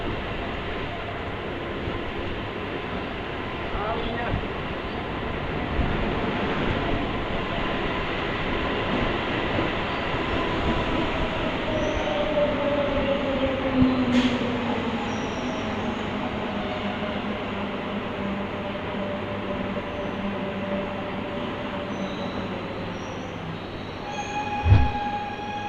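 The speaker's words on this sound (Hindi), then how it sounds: "तूफानी रफ्तार में अराइवल ले रही है हमारी मेमू ट्रेन" MEMU train pulling into Kamptee railway station, a long, steady rumble of carriages rolling past with squealing wheels and a few sharp clanks near the end as it slows.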